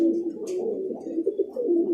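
A roller pigeon coos softly and continuously up close, a low, throaty, wavering murmur with a few faint rustles and clicks and no talking.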